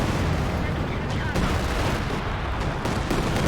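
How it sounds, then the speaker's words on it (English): Katyusha rocket barrage in a World War II strategy game, a dense, continuous roar of overlapping explosions and rumbling fire that fills the whole stretch with little letup. "Oh, big barrage there."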